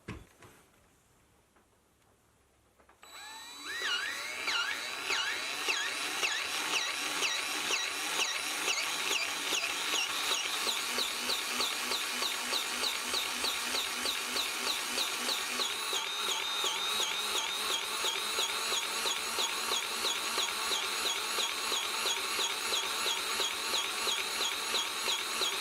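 A DEWALT 20V cordless grease gun pumping grease into a Zerk fitting runs as a steady, fast mechanical ticking whir after a brief quiet start, continuing unbroken at close range for over twenty seconds.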